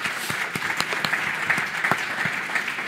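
An audience at a public round table on housing renovation regulations and grants claps steadily, a dense patter of many hands that is fairly close and sustained, with no voices over it.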